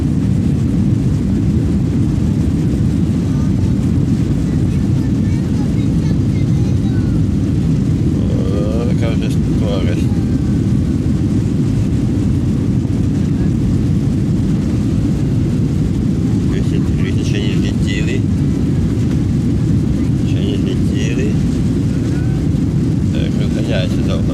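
Heard from inside the cabin, an airliner flying home from Morocco speeds down the runway and lifts off. A constant, heavy low roar fills the whole stretch, with faint muffled voices now and then.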